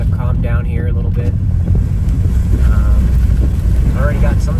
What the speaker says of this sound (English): Winds are still gusting pretty good, not raining too much.